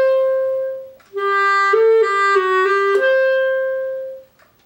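Solo clarinet playing a slow turn from Rose etude 35 that resolves onto a D, a sustained opening note moving through several smooth connected pitches before settling on a long held tone, clear and close.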